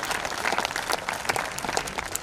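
An audience at a kavi sammelan poetry gathering in Udaipur claps for the poet Manika Dubey from Jabalpur, a brisk, steady round of many hands applauding together, close and fairly loud with no voices over it.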